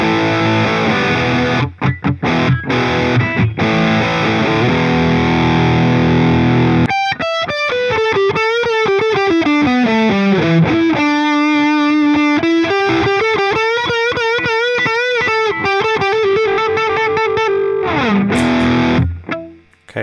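Distorted electric guitar through the Amplitube 5 CS amp plugin: loud chugging chords give way to a fast melodic lead line with bends and sliding notes, close and without talk.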